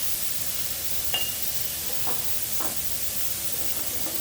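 Prawns frying lightly in oil in a pan for a Bengali dab chingri dish give a steady, quiet sizzle with a few faint stirring clinks, no voices over it.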